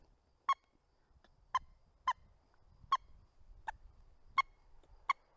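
A wood duck call blown in seven short, sharp, squeaky peeps, spaced unevenly over a few seconds, clear and close with no talking.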